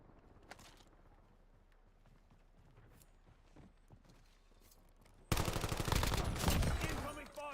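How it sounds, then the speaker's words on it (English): Call of Duty Warzone gunfire breaking out suddenly after quieter footsteps and scattered distant shots, loud rapid automatic bursts filling the last couple of seconds. "Incoming fire."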